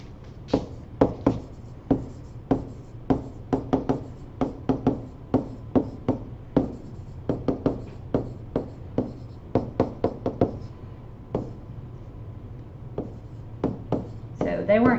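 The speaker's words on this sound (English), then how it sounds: "So how about I write those down?" Pen or marker tapping and scratching on a surface while writing down points for an ellipse graph, a steady run of sharp, close strokes and taps over about fifteen seconds, with faint room tone underneath.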